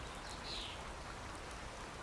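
Steady rainfall in the survival card game Card Survival: Fantasy Forest, a soft, even hiss of rain that continues alone throughout at low volume.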